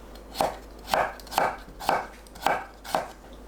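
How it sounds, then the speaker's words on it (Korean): A knife cuts broccoli stems into bite-size pieces on a cutting board, six crisp, evenly spaced chops about half a second apart, close and clear with no talking. "줄기 부분은 억센 겉껍질만 벗겨내고 한 입 크기로 썰면 돼요."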